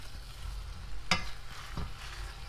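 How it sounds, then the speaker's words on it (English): Vegetables cooking in a pot with a steady low sizzle, broken by a sharp scraping clink of a spoon stirring and a softer scrape shortly after. "I'm just gonna give it a stir, make sure nothing's sticking to the bottom"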